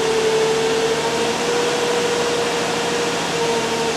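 A car engine idling roughly with its number one cylinder cut out and misfiring after a spark plug replacement, giving a steady, loud, close drone with an even hum and no talking.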